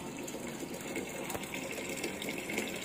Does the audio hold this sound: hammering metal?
no